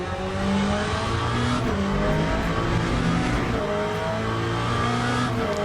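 A Peugeot race car engine in the video game Le Mans Ultimate, a loud, close, steady high-revving drone with shifting pitch as it accelerates and changes gears, running continuously with no talk.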